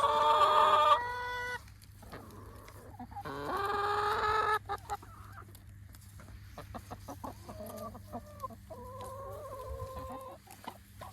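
Free-range chickens on a farm cluck and call repeatedly at close range, with a few louder bursts early on and softer chatter continuing throughout, no talk present.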